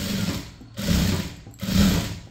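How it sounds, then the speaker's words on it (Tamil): A sewing machine stitches lace onto a blouse in steady bursts, three runs of whirring needle motion with short pauses between, close and clear with no talking. "எப்பவுமே லேஸ் தைக்கும்போது டபுள் தையல் போட்டுக்கோங்க"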